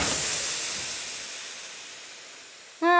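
Air hisses steadily from a punctured vehicle tire in a video game, a loud, airy rush that gradually fades. A short tonal sound cuts in at the very end.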